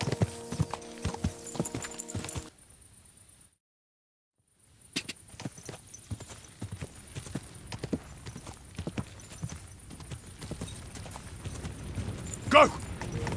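Horse hooves clip-clopping in the medieval video game Kingdom Come: Deliverance 2, a steady walking rhythm of hoofbeats with a brief silent gap, plus game sounds and faint harness noise.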